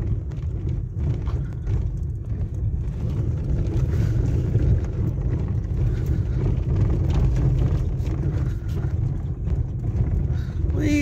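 Continuous rough rumble and rattling of a car driving over a rough village road near Taif, Saudi Arabia, heard from inside at moderate level, with someone talking over it.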